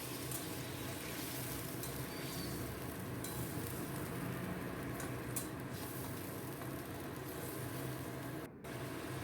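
Water goes into hot oil for a semi-gravy katla fish curry with cashews and five-spice, giving a loud, continuous close sizzle and hiss with occasional clinks, steady throughout and briefly dipping near the end.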